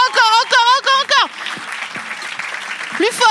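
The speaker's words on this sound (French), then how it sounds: "Faites un putain de tonnerre d'applaudissements pour Bounaïmin." A comedy show audience breaks into applause and cheering after a loud voice calls out over a microphone; the clapping swells into a dense, moderately loud crackle that fills the second half.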